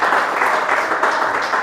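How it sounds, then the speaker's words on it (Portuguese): A church congregation claps for the Lord during a worship service, a dense, steady wash of hands filling the space for a short burst without a break. "aplauda o Senhor bem forte"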